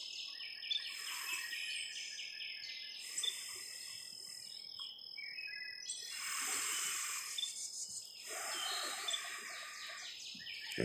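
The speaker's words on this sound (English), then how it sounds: "And do you hear the birds, how their noises increased since I've done this?" Outdoor birds chirping and trilling in repeated bursts over a constant high insect buzz, fairly distant and clear with no talking.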